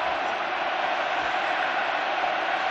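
Munster supporters at a Leinster versus Munster URC rugby semi-final roar in a steady, dense wall of crowd noise, unbroken and loud from start to finish.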